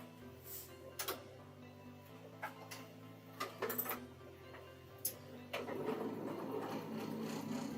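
A sewing machine labours through thick, bulky layers of quilting fabric. A faint motor hum and scattered mechanical clicks build into a louder, strained run of stitching at the end.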